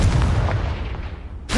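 Confringo fire spell explosion in Hogwarts Legacy: a heavy, continuous booming rumble that fills the clip, loud and close, and cuts off sharply near the end.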